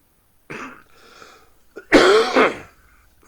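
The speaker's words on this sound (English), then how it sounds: "you're going to have to pardon me if I got to pause for a cough or two" A person coughs in a short sick-sounding fit: a brief hack, a small catch, then a loud burst of two or three harsh coughs close to the microphone, with no talking.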